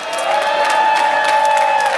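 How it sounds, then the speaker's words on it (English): A crowd at an Asian-Pacific heritage celebration applauds and cheers for a city commissioner, with steady clapping, a few whoops and voices mixed in, sustained and fairly close. "I want you to clap for all of them"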